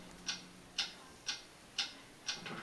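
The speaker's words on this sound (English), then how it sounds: "What is that mysterious ticking noise?" A mysterious ticking noise in Webkinz style: five crisp, evenly spaced ticks about half a second apart, clear and close, with nothing else heard.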